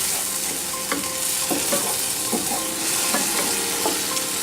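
Chicken stir-frying with green onion, soy sauce and chili sauce for crispy chilli chicken, a loud continuous close sizzle punctuated by regular scraping knocks of the spatula against the pan.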